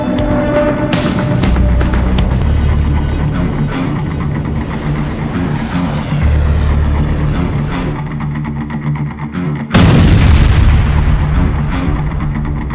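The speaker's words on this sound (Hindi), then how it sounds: "हूती ने एक लाइबेरिया के झंडे वाले रासायनिक टैंकर पर मिसाइलों से हमला किया है।" Missile strikes on a Liberian-flagged chemical tanker in the Red Sea, heard as a continuous heavy rumble of blasts and booms that builds to a sudden louder burst near the end, with no talk.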